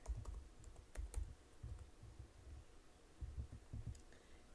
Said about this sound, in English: in the search bar, I'm going to type in leopard